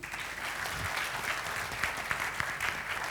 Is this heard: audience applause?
yes